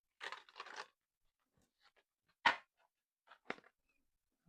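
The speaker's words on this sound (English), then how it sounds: "One more shuffle." A deck of tarot cards being shuffled, with a few short papery riffles and soft crunchy card bursts separated by quiet pauses, close and fairly faint.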